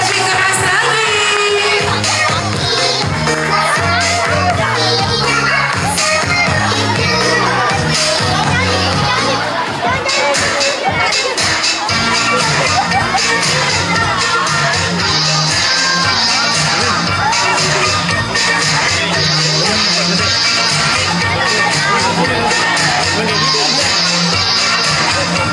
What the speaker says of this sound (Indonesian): Yuk, beri tepuk tangan. Lebih keras lagi.